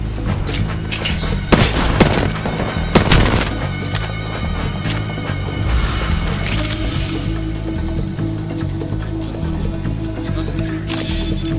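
Shotgun blasts in a video game land as a few loud, booming shots clustered early, followed by a steady bed of game sound and music.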